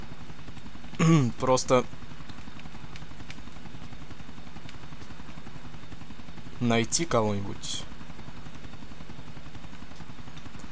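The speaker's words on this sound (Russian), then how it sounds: "мы с вами летим на аэродром, чтобы посадить наш вертолет" Helicopter flying in GTA 4, a steady rotor drone running throughout at an even level, with someone talking briefly twice over it.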